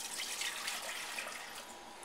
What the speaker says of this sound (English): put 2 cups of water into a large saucepan